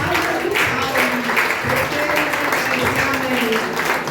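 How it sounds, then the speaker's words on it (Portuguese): A steady wash of applause from a congregation at a church celebration service, dense clapping continuing evenly throughout. "Eu vi uma salva de palmas"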